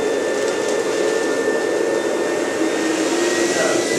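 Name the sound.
vacuum sucking air out of a cushion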